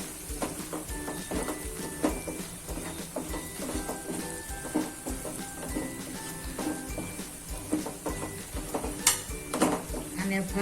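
A spoon stirs turmeric, red chilli powder, cumin powder and salt into a bottle gourd curry in a pan, with soft repeated scraping and light clinks of metal against the pan, fairly quiet and close.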